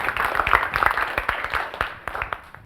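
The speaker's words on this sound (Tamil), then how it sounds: "மீண்டும் ஒரு முறை ஒரு அரங்கம் நிறைந்த கைத்தட்டல்" Dense audience applause fills a hall at a Tamil speech competition, many hands clapping steadily and loudly for the full stretch before slowly thinning toward the end.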